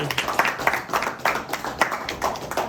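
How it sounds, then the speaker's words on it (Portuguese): A church congregation at a men's worship meeting breaks into a sustained round of applause, many hands clapping steadily and fairly close, with no one speaking over it. "E a Ele agora nós saudamos com essa salva de palmas, em nome de Jesus"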